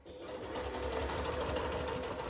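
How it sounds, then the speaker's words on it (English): A sewing machine stitching fabric for a curved pelmet with piping runs steadily and close, a continuous fast mechanical whir after a brief quiet start, with no talking. "I just place it under the sewing machine"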